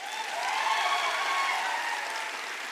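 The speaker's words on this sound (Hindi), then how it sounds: "आर्मी वाले सर के लिए जोरदार तालियां।" Audience applause for an army subedar major at a motivational seminar, a dense, steady wash of clapping sustained throughout without speech.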